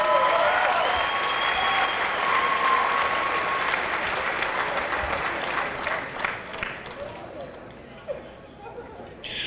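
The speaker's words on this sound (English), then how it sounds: "about a round of applause for both fighters" Crowd applause and cheering at a combat-sports event after a bout, loud and sustained, thinning out toward the end with scattered claps, while an announcer's voice carries over it.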